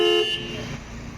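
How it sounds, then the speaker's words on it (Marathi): Tata Tigor XZ Plus iCNG car alarm siren set off from the remote key, a loud steady electronic tone at the start that drops into a rougher wavering wail. "जो गाडीचा सायरन आहे तो सायरन आपला स्टार्ट होतो लॉक आणि अनलॉकचं बटन एक सोबत प्रेस करून"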